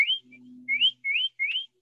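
A person whistles a short series of rising chirpy notes outdoors in a forest, imitating a bird such as a nuthatch, three or four clear close phrases with a low steady hum between them.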